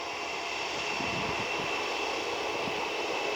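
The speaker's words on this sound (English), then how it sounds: "Runway is clear, so United will be heading out the 319 on its way to Chicago" United Airlines Airbus A319 jet taking off, a steady broadband engine roar holding at constant loudness from beginning to end, with no voices present.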